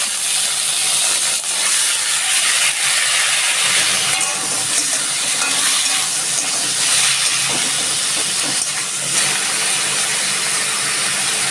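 Lychees drop into a hot pan for a Bengali sour lychee dish and set off loud, steady, close sizzling and hissing frying that holds without a break throughout.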